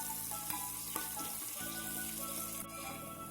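Onion and green chili fry in oil for seasoned rice, giving a continuous close sizzle with light crackling and a couple of soft utensil taps, with no voices.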